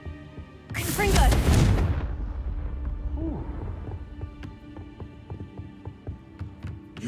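A blasting spell explosion from the Hogwarts Legacy video game: a loud burst with a booming low rumble near the start, decaying into a lingering rumble with scattered small crackles.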